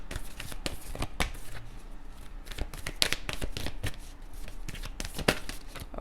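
Tarot cards shuffled by hand in a steady run of rapid papery riffles and slaps, close and fairly loud throughout with no talking.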